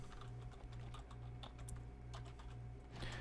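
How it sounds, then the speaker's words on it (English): Quiet, rapid tapping on a computer keyboard runs in uneven bursts over a steady low electrical hum, close up with no voices. "typing skills are atrocious today"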